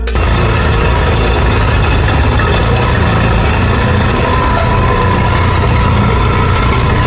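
A Ferrari F40 engine runs with a loud, dense, continuous roar that holds steady for the whole stretch, with no voices.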